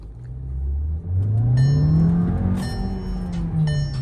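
A 2025 Volkswagen Jetta's engine revs up briefly as the car pulls ahead in a straight line, a rising, steady mid-pitched drone with a faint whine on top, heard from inside the car, close and alone.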